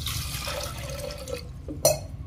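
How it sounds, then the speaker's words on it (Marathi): Water is poured into washed rajma beans for pressure cooking, a brief near trickle and splash with a short louder gush toward the end, no talk. "पाणी टाकून घेऊया"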